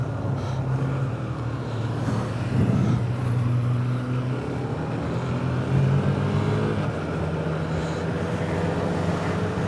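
A KTM Duke motorcycle engine droning steadily while riding, with a couple of rises in revs and a prominent low hum, loud and close with no talking.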